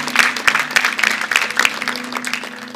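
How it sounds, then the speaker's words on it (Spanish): Church congregation clapping during a Spanish-language sermon, a brisk run of scattered hand claps over a steady low hum, moderately loud and continuous throughout. "Un aplauso al soberano Dios que está en el cielo."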